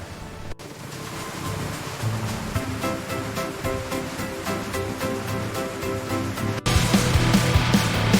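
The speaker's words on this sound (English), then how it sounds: "It is time to water the plants." Water sprays onto plants on a cartoon farm as a monkey waters them, a steady rushing hiss under bright looping music that swells louder near the end.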